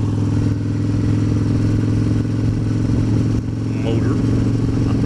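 A Harley-Davidson with a Milwaukee 8 engine drones loudly and steadily up close, with a deep continuous rumble under wind noise and someone talking over it.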